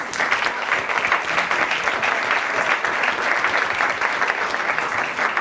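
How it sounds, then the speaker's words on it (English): An audience at the London College of Fashion claps for itself after a question session, producing a full, steady round of applause that holds evenly throughout without voices on top. "Round of applause for yourselves"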